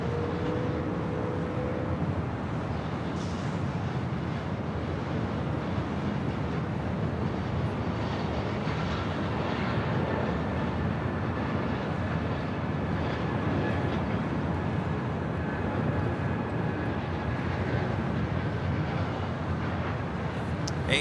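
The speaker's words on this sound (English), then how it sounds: "A380 Super still continuing his taxi to the south side." An Airbus A380 taxis at Los Angeles International Airport, a low, steady rumbling engine drone heard from a distance for the whole stretch, with a faint rising whine partway through.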